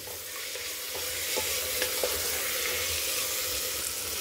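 Ginger garlic paste frying with mixed vegetables in a pan for veg biryani, a dense, even hiss of sizzling with soft stirring clicks throughout.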